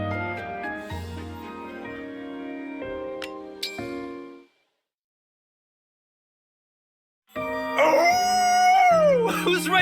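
Howling in Fire Emblem Engage: after game music and a sudden silence, a loud, sustained howl rises and then falls, sounding over a chiming backing.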